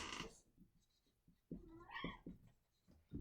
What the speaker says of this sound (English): I have a kitty cat who wants to leave.